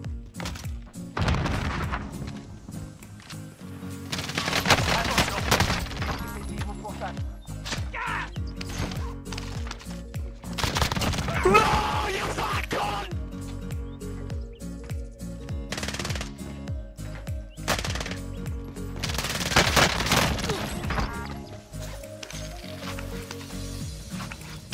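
Video game gunfire, dense rapid bursts and sustained automatic fire, loud and close, running almost continuously for about 25 seconds with brief lulls.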